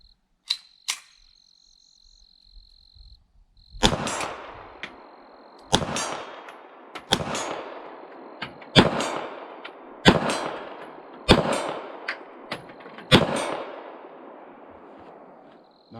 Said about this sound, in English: We'll take shots at the yellow plate out there about 30, 35 yards